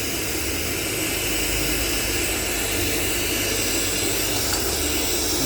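A glassworking torch flame roars steadily while glass is melted to make a Christmas decoration, a loud continuous hissing rush close by that holds an even level throughout.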